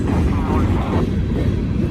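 A street-running freight train climbs uphill with its lead engine, a loud, close, continuous rumble and clatter of rolling wheels and machinery with no break.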